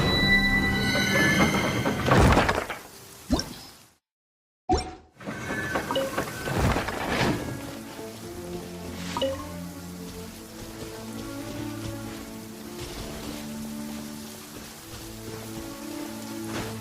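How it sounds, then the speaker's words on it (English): Rain falls in the video game Genshin Impact, a steady hiss of drops on surfaces with a brief gap of silence partway through, then continuing under soft game music. "I'm used to the rain."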